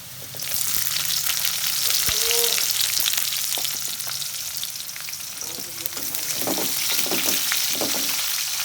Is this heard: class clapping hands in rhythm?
no